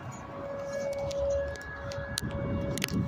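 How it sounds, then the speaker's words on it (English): Tornado warning siren under test in southern Kansas, a steady sustained tone drifting from the distance across the full stretch, with a faint wavering pitch over low background rumble and no talk. "just testing the tornado sirens to make sure they work"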